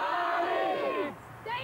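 A large squad of parents cheers loudly for young junior Australian-rules footballers at a match, a bright massed shout that drops away near the end before a brief rise.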